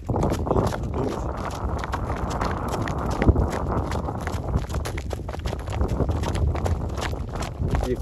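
A large draft mare's hooves clip-clop steadily on a hard road surface amid strong wind buffeting the microphone.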